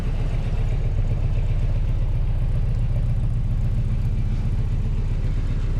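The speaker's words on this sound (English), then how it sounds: "Air conditioning is on so you can hear it kicking up." Steady low whirring rumble of a 1994 Toyota pickup with a 22RE engine idling while its air conditioning runs, a constant close drone with no talk over it.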